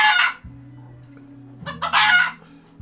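A purebred labuyo rooster, a Philippine red junglefowl, gives two loud, close crows, each a bright strained call, separated by a quiet low hum.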